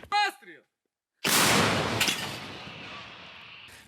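A single heavy artillery boom in the morning with a sharp onset, rolling and echoing for a couple of seconds as it fades; a brief voice is heard just before.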